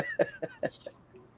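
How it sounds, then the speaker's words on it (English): A few short, dry coughs from someone with a bad sinus condition, three or four quick bursts in close succession, fairly quiet and near, fading out at the end. "Sorry, I'm coughing a lot,"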